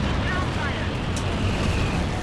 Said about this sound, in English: And strafing run comes in